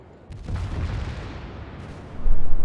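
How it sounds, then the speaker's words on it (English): A battleship's main guns fire a full broadside in World of Warships, giving deep, rumbling booms that swell and roll on. A heavier blast hits near the end, with no voices. "Full broadside at the Amagi."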